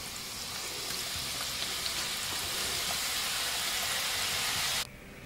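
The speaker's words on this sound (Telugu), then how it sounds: "మిగతా వాటిని అన్నింటినీ కూడా కొద్ది కొద్దిగా వేసుకుంటూ ఇదే విధంగా వేయించుకోవాలి" Wheat flour snacks seasoned with ajwain and sesame seeds deep fry in hot oil with a steady, dense sizzle and crackle. The sound is loud and even and runs alone until it cuts off abruptly just before the end.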